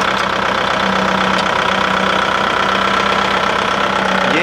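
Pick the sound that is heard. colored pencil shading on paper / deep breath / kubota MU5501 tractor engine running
kubota MU5501 tractor engine running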